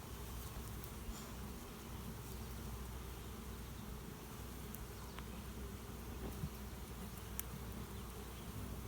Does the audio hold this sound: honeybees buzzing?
yes